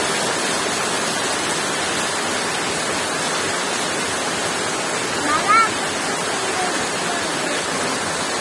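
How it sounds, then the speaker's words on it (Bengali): Heavy rain pours down in a dense, steady hiss that holds evenly throughout, loud and close, with no pause and only a brief faint bump midway. "কত জোরে বৃষ্টি হচ্ছে"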